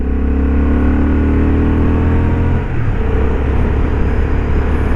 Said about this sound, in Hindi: और कैसे भागती है बाइक यार,